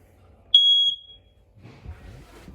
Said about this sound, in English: Right above my head, we've got your fire alarm.